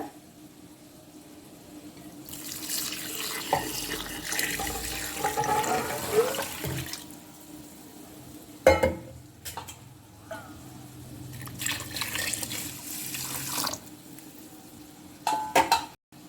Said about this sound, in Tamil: 8 கப் பால், கோகோனட் பால் ஊற்றுங்க.